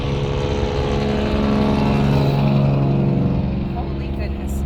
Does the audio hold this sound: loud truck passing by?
yes